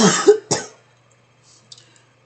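Two harsh coughs from a person with a lingering cough, close and loud in quick succession, followed by near silence with a few faint ticks.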